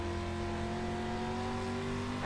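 Dirt street stock race car engine in the iRacing sim at Weedsport Speedway, a steady loud drone holding close under throttle with a slight rising pitch, continuous throughout with no talk.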